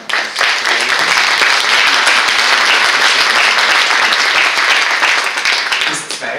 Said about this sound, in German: Und einen herzlichen Applaus.